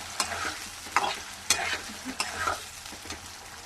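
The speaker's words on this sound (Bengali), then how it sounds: "মশলাগুলো আমি আগে কষিয়ে নিই" Spices sautéing in a hot pan for a soybean curry, with a continuous sizzle and repeated sharp scrapes and knocks of a spoon stirring them, close and fairly loud, with no talk.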